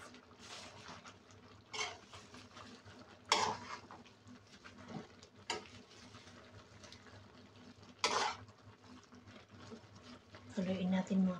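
Laing, taro leaves in coconut milk, stirred in a pot, with intermittent metal clanks and scraping of a spoon against the pot amid soft background noise, a voice talking throughout.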